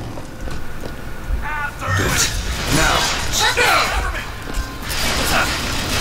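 Heavy weapon fire from a hand cannon and rocket launcher in BioShock Infinite, a dense run of loud crashing blasts and clanking mechanisms lasting several seconds, with brief vocal exclamations mixed in.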